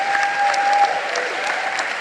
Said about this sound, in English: A warm applause for all my panelists.